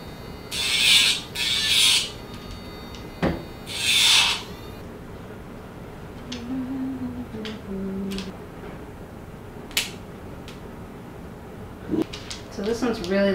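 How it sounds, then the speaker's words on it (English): A nail grinder works on the long, cracked nails of a rescue Schnauzer mix during grooming. Short, close rasping bursts come in intermittent spurts, separated by quieter stretches with faint shuffling and occasional voices. "I'm trying to use the grinder on him since his are pretty cracked."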